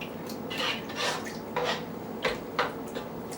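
Green chile turkey casserole being stirred together in a dish, with soft scraping and clinking of a utensil against the bowl, steady and close, with no talk.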